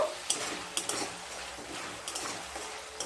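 A masala for a Bengali katla fish curry fries over low heat in a pan, with slit green chillies added; soft sizzling runs steadily under a few light stirring clicks and taps, fairly quiet and close.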